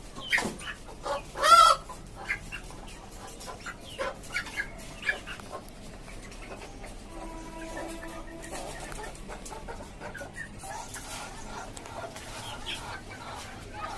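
A rooster and desi chickens on a rooftop farm cluck in scattered bursts, one loud call near the start, with a dog and faint voices in the background.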